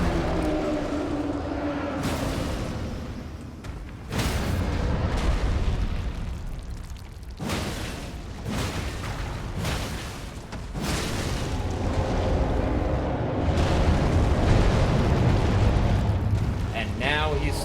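Repeated roaring fire-attack explosions in the video game IRONRING, loud booming bursts that rise and fall across the span with brief gaps, and a voice speaking over parts of it.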